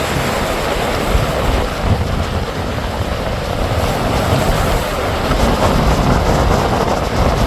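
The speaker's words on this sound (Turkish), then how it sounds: "Çok aşırı rüzgar var." Strong wind roars and buffets the microphone continuously, loud and close, with a rushing surf-like sound underneath.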